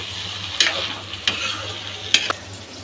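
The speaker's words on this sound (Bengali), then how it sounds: "মানে ভাজা করে নেব মশলার মধ্যে" Spice paste for hilsa with pumpkin greens sizzling softly in a pan, a steady low fry with a few sharp scrapes and clinks of a spoon stirring.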